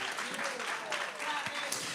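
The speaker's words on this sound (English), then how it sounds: "Clap it up for Taya." Audience clapping at a session gathering, quiet continuous applause with cheering voices and talk mixed in, heard from a distance.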